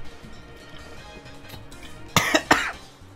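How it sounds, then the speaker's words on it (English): A person coughs near the mic, two or three sharp hacking bursts in quick succession over a quiet indoor background. "Water for that cough?"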